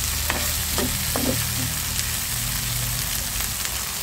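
Onion, garlic and green chili sizzle steadily in a pan, with a few sharp scraping stirs early on and a continuous frying hiss throughout; no one speaks.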